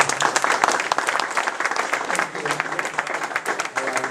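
An audience applauds a guest speaker, Dr. Paul Caruso, at a Hope Children's Home event, with a burst of many hands clapping in a lively, uneven patter that thins out over several seconds.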